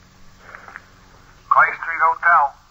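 Telephone call effect in a 1950s radio drama: a faint, brief ring early on, then a louder buzzing ring tone in two or three bursts, filtered and thin like an old phone line.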